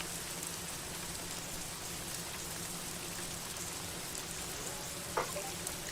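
Steady rain hiss in the Assetto Corsa racing game on a wet 2019 Austrian Grand Prix grid, a continuous broadband wash with a faint low hum and a brief tap near the end.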